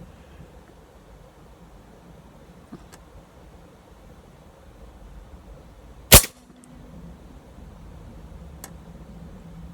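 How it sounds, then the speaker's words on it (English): A single sharp report from an AP 900 rifle cracks out once near the middle, standing well above a low, steady outdoor background, with a few faint ticks scattered around it. "Trouble is shooting this AP 900."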